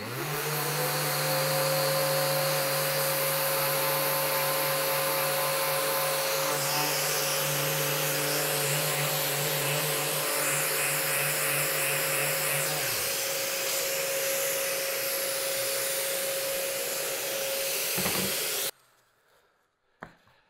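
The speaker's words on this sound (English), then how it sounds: "I'm gonna switch it out to a stiffer sponge, a 10 millimeter sponge, and it's gonna sand off this adhesive a little bit faster" A power sander with a stiff 10 mm sanding sponge grinds adhesive off a cabinet, a loud steady motor whine with a dust extractor drone and a rough scrubbing texture, then it switches off and winds down near the end.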